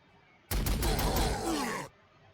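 Bolter gunfire from the Warhammer 40,000: Sanctus Reach strategy game: a loud, dense burst of rapid shots lasting just over a second, starting abruptly and cutting off sharply, with no talk over it.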